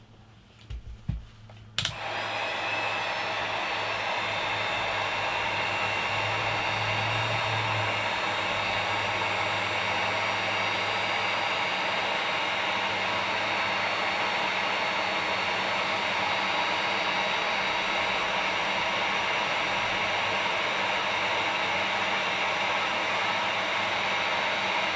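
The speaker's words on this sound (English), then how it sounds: "Then we just need to heat shrink it." Heat gun blowing on heat shrink tubing over a wire splice, a couple of clicks, then a steady loud roaring hiss that runs on unbroken for over twenty seconds.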